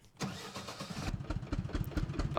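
A tractor engine in the farming game Professional Farmer 2014 cranks briefly and catches, then settles into a steady, rumbling idle, fairly faint and with no talk over it.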